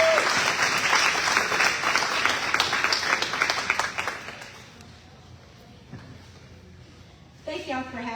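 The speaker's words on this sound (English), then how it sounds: "So give them a round of applause." Town hall audience in Alamance County applauding, dense clapping for about four seconds that thins and fades out, after which a voice begins speaking near the end.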